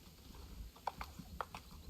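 A horse in Star Stable Online walks slowly, leaving a few soft, spaced hoof clops at an even, unhurried pace over a quiet background, with no talk.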